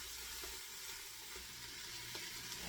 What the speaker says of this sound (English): Begin by heating up your olive oil in a large stock pot and sautéing your celery, onions, carrots, and your cabbage